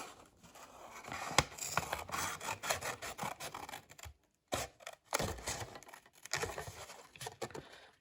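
Scissors snip and rasp through paper while cutting out the window of a paper food van, with close crinkling and rubbing of the sheet between short cuts.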